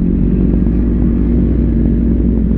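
A Gesek 750 motorcycle engine runs close by, a loud, steady low-pitched rumble with a continuous throbbing beat and no pauses.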